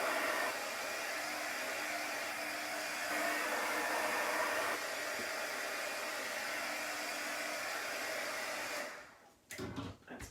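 A hair dryer blows steadily and loudly on wet paint on a Chalk Couture wooden door tag, a continuous whooshing roar that holds for about nine seconds before cutting off, followed by a few brief handling knocks.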